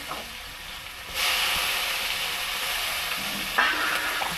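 Chillies, tomato, capsicum and cumin hit hot oil for a fish and aubergine curry, a loud steady sizzle that jumps up after a quiet start, with a stirring scrape near the end and no talking.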